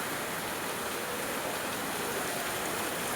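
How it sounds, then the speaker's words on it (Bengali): Heavy rain pours outside an exam centre, a steady, dense hiss of water falling close by with no let-up and no voices. "এখন সেন্টারের বাইরে বৃষ্টি হচ্ছে খুব ভয়ঙ্কর।"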